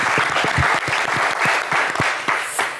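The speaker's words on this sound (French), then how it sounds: "allez, ça s'applaudit très très fort" Studio audience clapping on a TV game show, an energetic burst of applause with distinct sharp hand claps rising out of the crowd noise over a few seconds.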